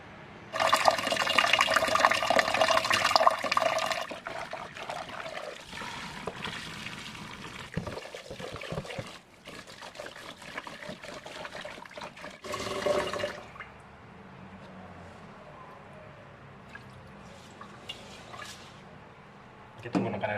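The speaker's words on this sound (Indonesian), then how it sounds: "Oke, kita langsung cuci berasnya dulu." Rice being rinsed in water before cooking biryani: a loud gush of running water, then sloshing and swirling grains in a bowl with drips, fading to quieter trickling, with no talking over it.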